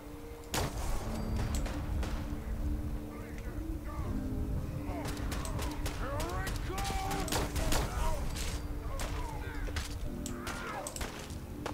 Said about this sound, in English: I'm hearing gunshots too. Something attacking our settlement here.